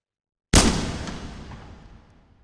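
A flare gun in the VR shooter H3VR fires once after a silent pause, a single loud blast that decays slowly into a long, fading boom.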